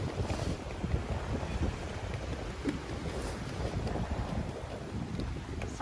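A sailboat under full sails with the engines off, on a broad to beam reach off Greece, with steady wind rushing over the microphone and water washing along the hull, a continuous loud wash with no talk.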